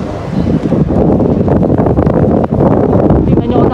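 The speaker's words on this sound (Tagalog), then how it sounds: "Sobrang lakas hangin." Strong wind buffets the microphone outdoors while a kite is flown, a loud continuous roaring gust with people talking over it.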